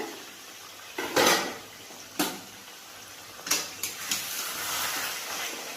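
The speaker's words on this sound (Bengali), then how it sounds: "আধা ঘন্টা হয়ে গেছে, এবার ঢাকনাটা খুলবো।" The lid comes off a pot of chicken chaap that has simmered for half an hour. A few faint metallic clanks and scrapes sound over a soft steady hiss, with no talking.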